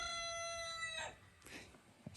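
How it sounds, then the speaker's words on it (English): A rooster crows once, a clear harmonic call in the opening second, followed by a few faint rustles and a soft knock in a quiet setting. "I think everybody has a rooster that does that nonsense"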